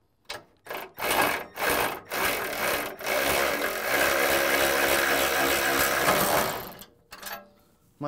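A power tool fitted with a 19mm socket drives out skid plate bolts while a Hefty Fabworks aluminum bumper is fitted to a 2005+ Nissan Xterra. A few short taps lead into a loud, close, sustained grinding whir lasting several seconds, then it stops.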